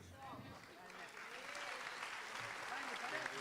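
Audience at a book fair presentation in Spanish applauding, a sustained burst of clapping at moderate distance lasting a few seconds.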